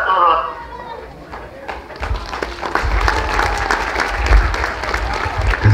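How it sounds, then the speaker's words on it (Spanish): Guests applauding at a quinceañera party, a burst of clapping building after a brief lull and continuing loudly with crowd chatter and voices mixed in. "Que se escuchen fuertes los aplausos."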